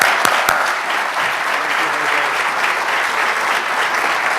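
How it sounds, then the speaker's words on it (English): A crowd at a Green Party event gives a round of applause for a speaker's introduction, dense, loud, continuous clapping with a few sharper claps near the start. "let's give him a good round of applause"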